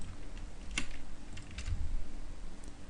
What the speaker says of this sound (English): So I'm typing in the same thing once again,